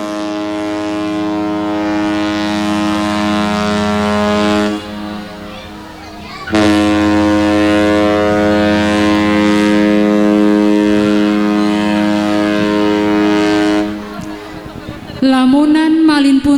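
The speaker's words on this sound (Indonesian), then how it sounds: "ada sebuah kapal besar milik saudagar kaya yang berlabuh dari negeri seberang" Large merchant ship's horn sounding on arrival in port, a long loud blast that breaks off briefly and then resumes, close and alone, with a faint sharper sound at the very end.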